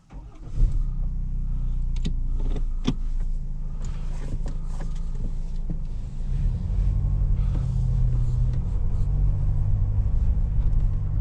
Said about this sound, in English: Let's go and see how it drives on the road.